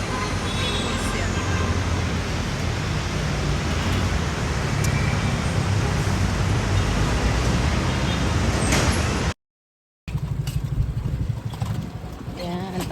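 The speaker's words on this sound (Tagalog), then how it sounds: "Sasakay naman kami ng tricycle." A motorized tricycle rolls through road traffic, with a loud, continuous engine and road roar that briefly cuts out before resuming at full strength.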